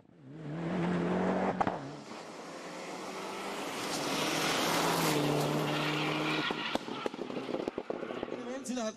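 VW Golf rally car at a Styrian rally stage, a rising engine roar as it approaches and passes close by, sustained and loud, then fading with crackles and pops, over a background of commentary.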